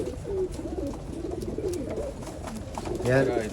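Pigeon cooing, a good-quality old-line bird, mixed with other nearby birds and a low background rumble, with a louder coo standing out near the end.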